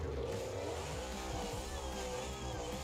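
A monster truck running two engines in BeamNG.Drive, its engine a rough, layered roar that pulses and revs, loud and continuous for about three seconds.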